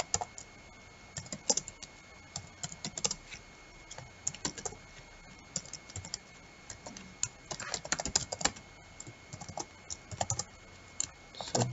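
Java code typed on a computer keyboard, a close, irregular run of quick key clicks in short bursts with brief pauses, no voices.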